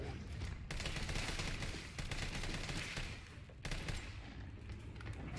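Rapid bursts of gunfire from the video game Resident Evil 3, dense and continuous with brief dips between volleys, loud and close with no voices over it.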